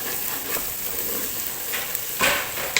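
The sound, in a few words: garlic and ginger frying in a pan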